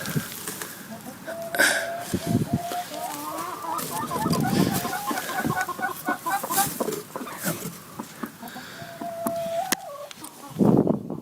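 Hens cluck and cackle in a steady, chattering run, several birds close by, with a few louder squawks toward the end.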